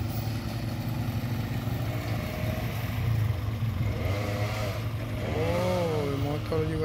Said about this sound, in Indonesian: Oh, motor juga tuh.